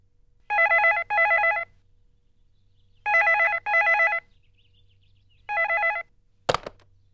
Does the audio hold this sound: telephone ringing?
yes